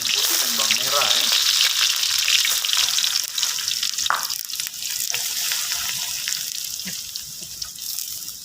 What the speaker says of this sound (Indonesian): Yang pertama saya akan masukkan bawang putih dan bawang merah ya